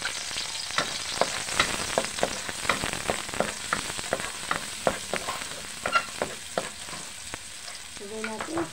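Garlic fries in a small amount of cooking oil for a stir-fry of mixed vegetables, cauliflower, broccoli, liver and mushroom, giving a steady close crackling sizzle punctuated by sharp stirring clicks and scrapes throughout, with no talking.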